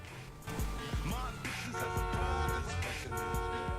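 A car horn in Grand Theft Auto Online honks over and over in short, insistent toots, loud and close above a busy game backdrop of engine rumble and thuds, with a voice briefly audible in the mix.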